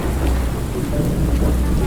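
A rainstorm with rumbling thunder in the survival game Under A New Sun, a loud, steady wash of rain over deep low rumble with no pause.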